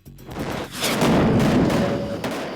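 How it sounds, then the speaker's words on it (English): Heavy gunfire during an ambush in Iraq, with dense overlapping shots and booms that run continuously and loudly through the whole stretch, close and chaotic. "RPGs, gunfire, just from every direction."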